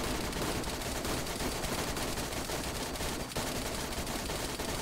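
Rapid continuous gunfire in DayZ rattles as a dense, unbroken stream of shots for several seconds, loud and close, with no voices.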